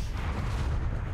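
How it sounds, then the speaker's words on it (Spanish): In the video game Predator: Hunting Grounds, a Predator's self-destruct device detonates in a massive explosion, a dense, loud, rumbling roar that fills the whole moment. "Mira que ves esa explosión. Igual que en la película."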